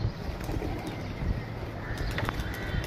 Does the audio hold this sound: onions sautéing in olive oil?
no